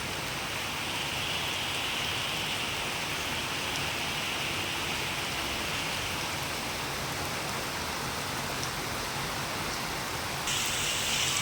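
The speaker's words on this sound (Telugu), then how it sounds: "ఎంత బాగుందో చూడండి వాన పడుతుంటే" Heavy rain pours down steadily, a loud, dense hiss with no pauses and no voices.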